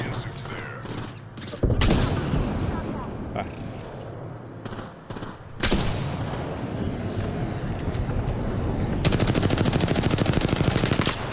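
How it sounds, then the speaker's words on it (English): Machine gun fire in the battle royale shooter Apex Legends, several loud sustained bursts with short pauses between them, ending in a long rapid stream of shots, close and heavy, with a player's voice occasionally underneath. "What the hell kind of shooting is that, right?"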